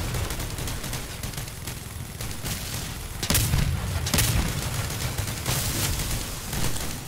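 Pulsar weapons fire repeatedly in the vehicle combat game Crossout at 8K power score, a dense stream of crackling, booming shots with two sharper, louder blasts midway amid continuous battle noise.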